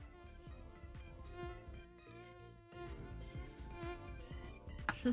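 A fly buzzes with a thin, wavering whine that rises and falls, faint and steady throughout.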